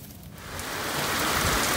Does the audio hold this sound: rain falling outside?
yes